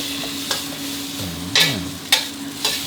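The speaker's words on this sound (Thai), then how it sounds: "ผัดไปแรงอีกคู่เดียวครับ" An omelet with holy basil is stir-fried in a pan, giving a steady sizzle broken by several sharp spatula scrapes and knocks against the pan, with no talking.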